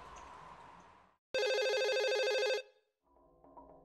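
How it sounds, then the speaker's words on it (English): A telephone in the video game Twilight Syndrome rings with one loud, sustained electronic ring burst, followed by a softer tonal chime after a short pause. "then the phone rings again"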